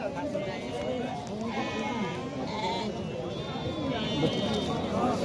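Sheep at Taltal Bazaar, a livestock market in Purulia, bleat in a few short calls over steady, busy crowd chatter and talk.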